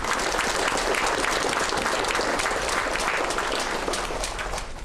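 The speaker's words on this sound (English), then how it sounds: "Let us give a round of applause for our Santo Niño." A congregation at a Sunday televised Mass applauds for the Santo Niño, dense, steady clapping filling the church for about five seconds without a break.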